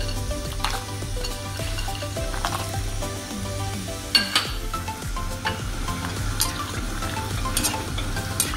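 Cashews and raisins fry in oil with a constant close sizzle, mixed with spoon stirring, metallic scrapes and a few sharp clinks against the pan.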